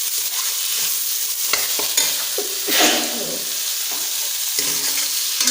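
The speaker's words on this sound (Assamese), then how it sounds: "5 মিনিটমান ভাজি থাকিব লাগিব এনেকৈ" A tomato and potato masala fries in a pan, crackling and sizzling loudly up close while a spoon scrapes and stirs through it in repeated strokes, with no voices.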